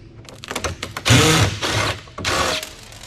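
Screws are being driven out of a smashed scrapped server with a power driver, giving short whirring bursts, three stronger pulses following lighter buzzing, close and loud.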